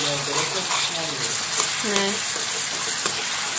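Chicken and onions frying in a pan: a steady, close sizzle with occasional stirring scrapes, and a voice speaking faintly under it.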